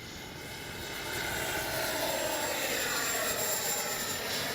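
A HobbyKing Viper 64 RC jet with a 64 mm ducted fan whooshes past in flight, its high whine and rushing air swelling after the first second and then holding steady at a moderate distance.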